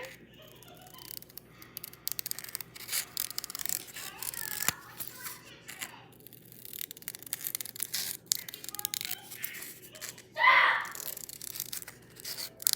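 Snipping and crisp paper rustling from scissors cutting, intermittent and close, with faint background voices and a brief louder burst near the end.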